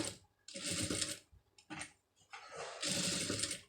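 A sewing machine stitching a sleeve seam with matching thread, running in short bursts of rapid mechanical whirring with brief pauses between, close and fairly quiet.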